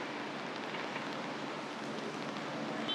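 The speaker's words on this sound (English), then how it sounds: "now rain again" Rain falling on a street in Singapore, a soft, steady hiss of drops spreading evenly and continuously with no voices.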